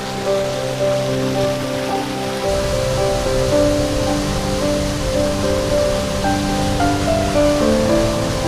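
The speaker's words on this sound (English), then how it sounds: "So I found my first waterfall. As you can probably hear, it's pretty pumping" A rushing waterfall in the Blue Mountains on the Isle of Skye pours steadily, a loud dense roar of falling water that thickens after a moment and runs on without pause.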